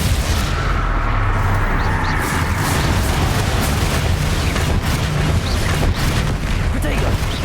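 Explosive spell blasts and booms from Hogwarts Legacy crowd together in a dense, continuous roar of battle, loud and rumbling throughout, with voices shouting over the chaos.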